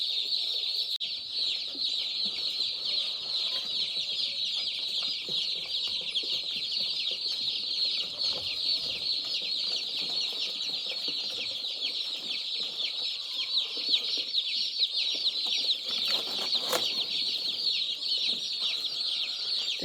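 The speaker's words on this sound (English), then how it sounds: "Those are the turkeys. Aren't they so cute?" Newly arrived turkey chicks in a shipping box at the post office, a dense, continuous chorus of high peeping from many birds close by, with no talking.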